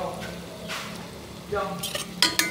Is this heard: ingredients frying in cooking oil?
yes